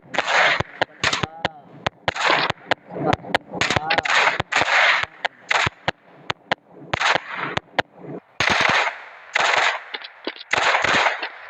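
Gunfire in the mobile shooter game Special Force Group, rapid bursts of loud automatic shots and single cracks in quick succession, with someone talking over the shooting.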